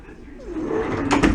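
A drawer in a cruise ship cabin slides open with a low scraping rumble, ending in a couple of sharp knocks, close by.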